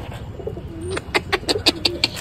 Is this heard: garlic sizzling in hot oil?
no